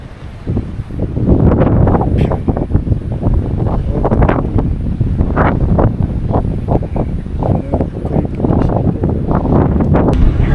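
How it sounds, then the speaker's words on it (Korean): Strong gusts buffet the microphone on a coastal walking trail along Korea's Haeparang route between Daebyeon Harbor and Jinha Beach, a loud continuous roar that swells and dips throughout. "바람 너무 세게"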